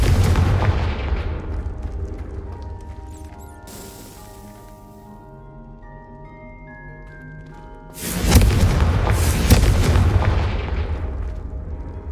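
A Confringo fire spell bursts in Hogwarts Legacy: a loud booming blast opens, decays into a ringing tail with faint tones, then a second heavy explosive burst hits near the end.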